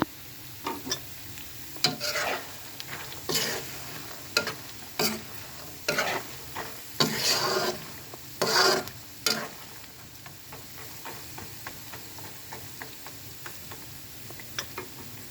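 Peanuts are stirred in a pan over a fire, with repeated scraping and rattling strokes at an irregular rhythm and a quiet sizzle between them, close by and without talk.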